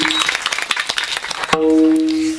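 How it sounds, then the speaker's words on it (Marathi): A crowd claps in scattered, uneven bursts at a devotional kirtan gathering during an akhand harinam saptah. The applause is fairly loud and stops after about a second and a half, when sustained musical tones take over. "एकदा जोरदार टाळ्या वाजवा"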